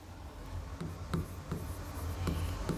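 Chalk writing on a board in a science class, with repeated short scratchy strokes and taps at an even pace over low room noise and no speech.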